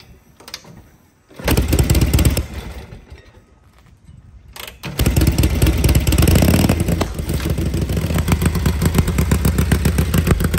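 A 1937 Harley-Davidson WLDR flathead factory race bike is kicked over, coughing once and fading before catching on a second kick and roaring into a loud, loping idle that continues, close up and with nobody talking.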